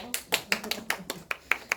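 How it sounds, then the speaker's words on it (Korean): Church youth service congregation clapping in thanks to God, a short burst of sharp, rhythmic hand claps heard close and fairly quiet, evenly spaced about five per second. "하나님께 감사의 박수를 올려드리겠습니다"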